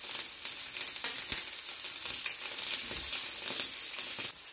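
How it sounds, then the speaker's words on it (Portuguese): Kafta, spiced Arabic meatballs, browning in a frying pan, giving off a steady, dense crackling sizzle at moderate volume throughout, with a few faint scrapes and no voices. "bora lá para a frigideira. Doura de um lado, vira para dourar do outro lado."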